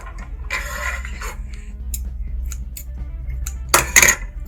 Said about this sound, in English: just rotate the wheel backwards 1 turn, and that will unhook it from underneath